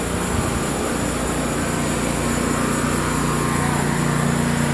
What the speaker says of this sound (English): Motor's running strong.